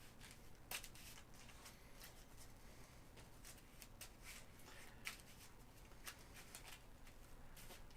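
Playing cards shuffled quickly before a Marvel Champions card game, heard as a series of soft, crisp riffling bursts and flutters recurring through the stretch, fairly quiet and close, with no talking.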